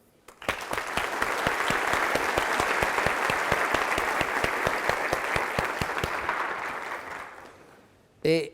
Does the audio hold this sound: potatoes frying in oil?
no